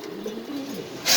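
Pigeons at a pigeon farm in Mirpur give soft, low cooing in a steady murmur close by, ending with a brief louder rustle.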